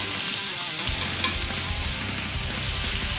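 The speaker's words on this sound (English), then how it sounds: "While these scallops are searing" Scallops sear in a hot pan with bacon nearby, making a loud, dense, continuous sizzle that stays close and unbroken throughout.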